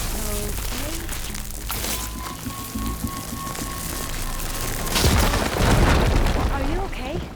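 A firegleam explosion in Horizon Forbidden West: a rumbling blast that builds into a louder, crackling roar toward the end, with a voice talking over it.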